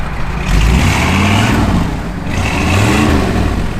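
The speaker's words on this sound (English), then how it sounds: "Give it a little rev." A 1964 Chevrolet Impala SS engine is revved close by in two loud swells, rising and settling between them, with no talk.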